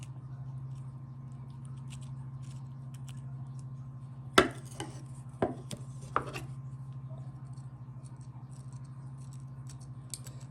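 A knife cuts a firm Long Keeper tomato in a few sharp, close crunchy snaps clustered mid-way, over a steady low electrical hum.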